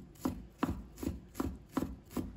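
A knife mincing fresh ginger on a cutting board, six evenly spaced, crisp chops in a steady rhythm, close and fairly quiet with no speech.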